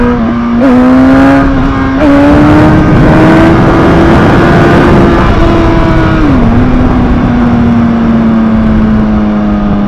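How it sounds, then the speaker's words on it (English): Motorcycle accelerating hard in second gear for a power wheelie, a loud close engine drone that rises steadily in pitch with brief throttle blips early on, then drops slightly and holds. "You accelerate, and when you accelerate, you give, and then you go."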